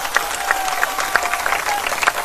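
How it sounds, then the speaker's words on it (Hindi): An audience at a rally welcoming Sachin Pilot bursts into steady, dense applause, many hands clapping together with a few sharper claps and whistle-like tones on top. "आप सब जोरदार तालियों से उनका स्वागत करें।"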